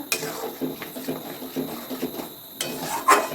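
Chicken curry masala tipped into about 1.5 kg of chicken in a pot and stirred, a spoon scraping and clinking against the pot in irregular close knocks with a faint sizzle beneath.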